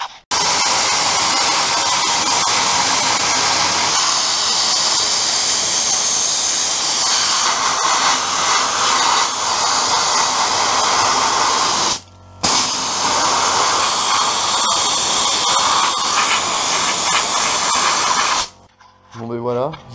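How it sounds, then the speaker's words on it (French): Sandblasting rusty welded metal produces a loud, continuous roaring hiss that runs almost without a break, pausing once briefly before stopping near the end. "Allez, je vais sabler."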